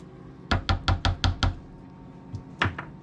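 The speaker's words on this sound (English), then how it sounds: "Just want to come in with the spatula, make sure nothing's sticking" A spatula scrapes and knocks against the inside of a slow cooker holding smothered meatloaf, six quick close thumps in a row, then a pause and two more.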